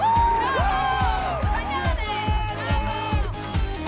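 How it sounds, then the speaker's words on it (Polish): A cartoon crowd of Monster High girls and schoolmates cheers loudly for the girls, with overlapping excited voices and whoops running continuously. "A teraz brawa dla dziewczyn!"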